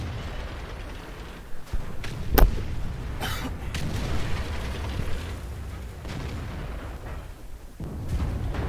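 Tank gun fire in a heavy-tank video game, with a sharp loud boom and several smaller thuds and mechanical clanks over a low engine rumble.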